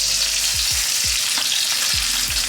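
Pomfret fish fry in a pan over medium to high heat, a dense bright sizzle with a few soft thumps and pops, close and continuous with no voices.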